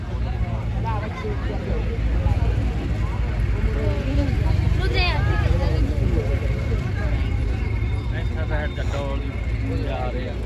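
A tractor engine rumbles steadily at a Punjabi tractor fair, a loud continuous low drone running the whole time beneath busy crowd chatter and nearby voices.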